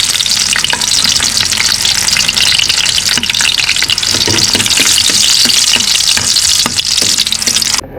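Garlic fries in hot oil for squid adobo, producing a loud, close, continuous sizzle with stirring scrapes and bursts of spattering that holds right to the end.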